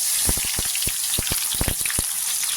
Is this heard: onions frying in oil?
yes